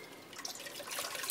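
Canned chicken broth pours from the can into a pot over chicken, a steady liquid trickle and splash close by, continuous for about a second with no talking.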